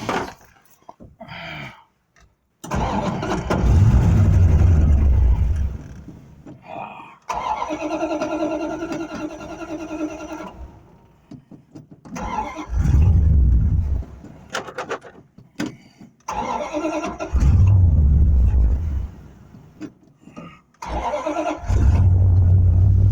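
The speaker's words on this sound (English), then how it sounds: "And we're going to see if we can start the old car." A 1974 Plymouth Duster with a 318 four-barrel V8 cranks and catches on a cold start. Its engine fires in loud bursts of running and revving with brief pauses between attempts, and voices are heard in the background.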